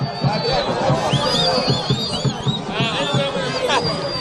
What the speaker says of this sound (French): Il est très applaudi par les Kassaïens.